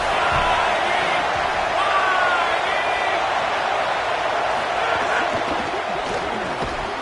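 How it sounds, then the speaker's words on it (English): A home crowd at an NCAA college football game with Georgia roars steadily and loudly throughout, a dense wall of cheering with scattered whoops, while a voice talks faintly underneath. "this home crowd getting involved right from the start"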